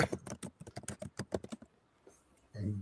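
Fast clattering keystrokes on a computer keyboard sit right beside the microphone, loud and close, in a rapid burst of about two seconds. A brief thump follows after a short pause.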